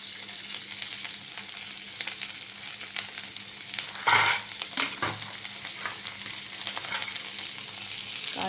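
Cashew nuts and peanuts frying lightly together in a pan, a soft steady sizzle with occasional stirring scrapes and a brief louder clatter midway, no talk.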